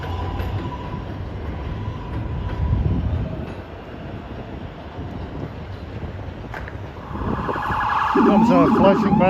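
Emergency sirens wail from the streets near the elevated New York City #7 subway line in Queens, rising and warbling loudly near the end over the steady rumble of a passing train.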